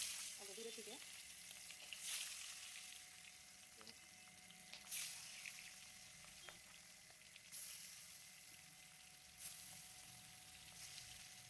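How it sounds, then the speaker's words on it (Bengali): Boal fish frying in hot oil, a steady broad sizzle with a few brief louder spurts of crackle, close by and fairly faint, with no talking. "গরম হয়ে গেছে তেল। একটা একটা করে মাছ ছেড়ে দিব"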